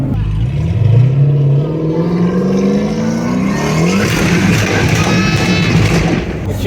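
A 1000hp twin-turbo C8 Corvette accelerates hard, its engine note climbing in repeated rising sweeps as it shifts up through the gears, loud and close, with a voice faintly present.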